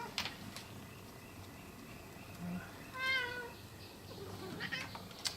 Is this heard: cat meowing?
yes